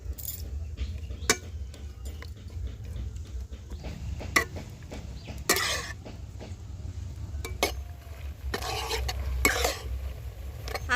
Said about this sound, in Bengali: আস্তে আস্তে দেখুন চিনির রসটা কিন্তু খুব সুন্দরভাবে ফুটতে শুরু করে দিয়েছে